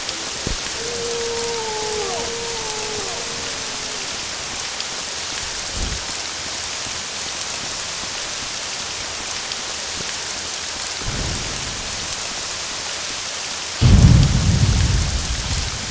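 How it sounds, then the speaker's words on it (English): Steady rain hisses throughout, with a few low rumbles of thunder and a louder thunderclap near the end, in the video game Morrowind. "I hope this rain goes away."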